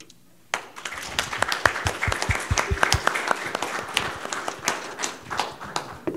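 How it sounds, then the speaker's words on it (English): An audience at a medical cannabis panel breaks into applause after a quiet moment, with close, sharp individual claps standing out over a rising, sustained crowd clapping. "let's give everybody in our panel another round of applause"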